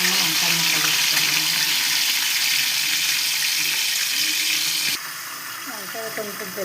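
Eggplant pieces fry in hot oil in a pan with a loud, steady broadband sizzle that drops somewhat near the end, while a voice speaks faintly underneath.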